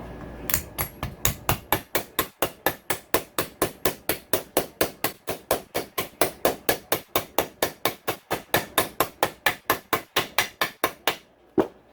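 A smooth-faced hammer taps a cold bearing into a KTM 150SX/125SX two-stroke motorcycle engine case during a rebuild: dozens of sharp, steady metallic blows at a quick, even rhythm, close and loud, with no talking.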